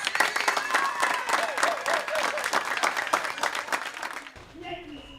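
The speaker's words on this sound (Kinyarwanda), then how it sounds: "ndabasaba ko mwaha Mutoni amashyi menshi" An audience in a presentation setting breaks into dense, lively clapping close by, and the applause fades out as voices start speaking at the end.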